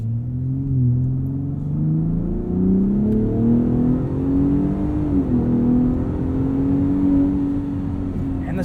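The engine of a 2021 Ford F-150 Raptor with the 37 Performance Package accelerates, heard from inside the cab. Its deep, smooth drone climbs steadily in pitch and stays loud and continuous throughout.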